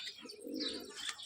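A visiting pigeon wearing two rings on its legs, out of breath, gives a short, close, low coo mixed with a few brighter chirpy notes.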